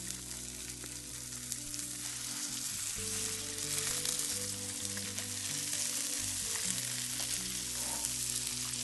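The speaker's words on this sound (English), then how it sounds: "I'm just going to put my salmon fillet flesh side down, skin side up" A salmon fillet laid flesh side down in a hot pan sears with a loud, steady frying sizzle that crackles continuously with no talking.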